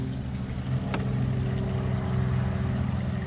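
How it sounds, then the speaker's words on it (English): A motor vehicle hums steadily nearby, its engine tone rising slightly as it passes, with one sharp tick early on. "Vehicle passing by."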